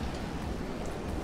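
Rain falls steadily in the naval building game From the Depths during a stormy stretch at sea, a dense continuous hiss with no voices over it.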